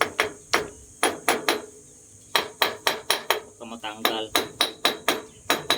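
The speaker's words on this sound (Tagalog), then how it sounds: "Gamitan natin martilyo. Dipok-pok-pok para umangat." A hammer knocks repeatedly on a piece being pried loose, with sharp close metallic taps in quick bursts separated by short pauses, while a person speaks briefly between the strikes.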